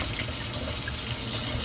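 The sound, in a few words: water flowing from hot and cold supply taps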